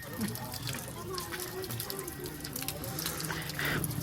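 Water runs from a tap into a container on Girnar mountain, a steady gushing flow heard up close under nearby outdoor background noise and faint voices.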